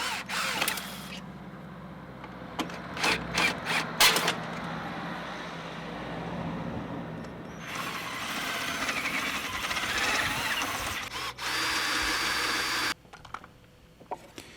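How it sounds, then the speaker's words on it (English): Power drill boring out rivets on the heel of a furling sailboat mast, mostly a steady close whirring grind with a few brief bursts and pauses, and no talking. "Drill out the rivets to start with"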